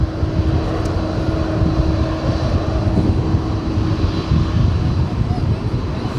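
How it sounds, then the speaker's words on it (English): A UPS Boeing 767-300ER jet, 23 years old, rumbles steadily at Dallas DFW airport, a broad continuous engine roar with a faint tonal whine that persists without a break. "UPS flight 2954, 767-300ER"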